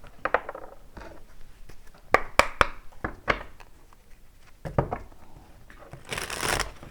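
Tarot cards are shuffled by hand close up, giving quick papery riffles and sharp slaps in irregular bursts, with a longer brushing shuffle near the end and no speech.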